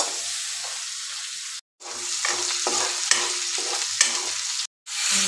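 Ginger, garlic and green chili frying and being stirred in a pan, a steady close sizzle with rhythmic scraping strokes, broken by two brief silent gaps.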